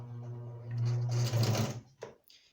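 A sewing machine runs a short backstitch on a cushion cover hem, a steady close motor hum with rapid needle chatter that stops abruptly, followed by a small click.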